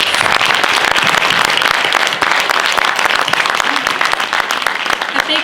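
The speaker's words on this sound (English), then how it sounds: "Please join me in a round of applause for our candidates." Loud, dense audience applause for candidates at a county commissioners candidate forum, a continuous wash of clapping that stays strong from start to finish.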